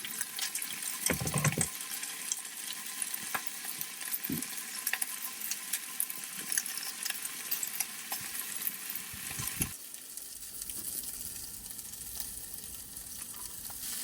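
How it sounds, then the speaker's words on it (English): Sausage sizzles and crackles in a skillet while someone cooks and lives out of a car. A steady, fairly quiet frying hiss is broken by a few brief clatters and knocks. "Ooh, got some sizzling happening."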